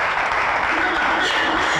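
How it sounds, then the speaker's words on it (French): A studio audience on a Kinshasa TV show claps in a dense, loud burst that lasts only a moment. "On va applaudir très fort pour eux à Barankoy."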